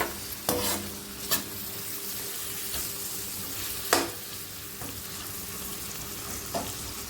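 Cauliflower frying in a little oil in a pan, with a steady soft sizzle broken by a few sharp scraping clicks of a utensil stirring it, close and alone without talk.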